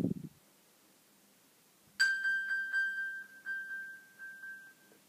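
After a brief thump and a moment of quiet, an iPhone's locating ping triggered from an Apple Watch sounds, a bright sustained tone with rapid rhythmic chirps, clear and moderately close.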